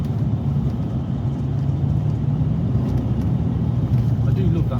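An old Rolls-Royce V8 rumbles steadily from inside the cabin while driving, a low constant engine drone with road noise and no variation in level throughout.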